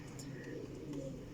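Teddy breed pigeons coo softly in a low, steady murmur, a close and continuous throaty rumble with a faint chirp near the start.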